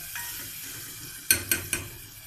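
Rice sizzles as it fries in a pan for stuffed pigeons, with a steady frying hiss and three sharp clinks of a spoon stirring against the pan near the end, and no talking.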